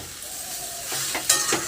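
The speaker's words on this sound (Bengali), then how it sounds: "অল্প একটু নাড়াচাড়া করে নেব আর সবজিটাকে একটু কষিয়ে নেব।" Soybean chunks, potato and vegetable stems stirred in a spicy curry masala in a pan, a short burst of close sizzling with a couple of scraping strokes of the spoon.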